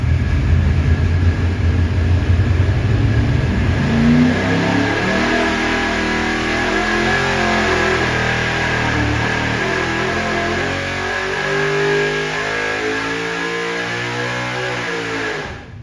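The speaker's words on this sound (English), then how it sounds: "That was actually a dyno pull from it." A big block V8 engine roars steadily under heavy load on a dyno pull, pitch climbing gradually through a long sustained pull with no voices.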